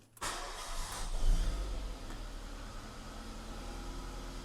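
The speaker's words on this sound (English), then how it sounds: "I'm just going to go give it a start up, see if it's blowing like mad" A MK5 Ford Escort with a newly fitted exhaust cranks briefly and catches, the engine flaring up loudly for about a second before settling into a steady close idle.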